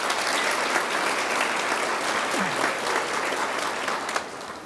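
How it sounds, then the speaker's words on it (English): Sustained audience applause fills a nursing pinning ceremony, dense clapping from a large crowd that stays steady for several seconds before tapering slightly at the end. "let's also give them a round of applause"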